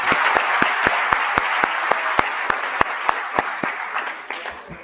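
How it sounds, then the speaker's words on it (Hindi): An audience applauds for itself at the end of a seminar session: dense, steady clapping from a sizeable crowd that holds at an even level for several seconds and then gradually thins and fades. "एक बार आप लोग अपने लिए ताली कर लो"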